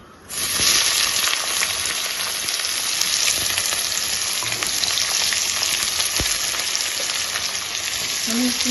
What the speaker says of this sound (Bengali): এবার আলুগুলো আগে ভেজে নেবো